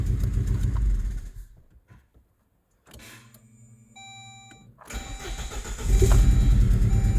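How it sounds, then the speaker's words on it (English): A Saab 9-3 Aero with a compression issue idles roughly, goes quiet, then the starter cranks with a steady whine before the four-cylinder engine catches and settles into a loud, rumbling idle close by. "Let's see how it starts up now."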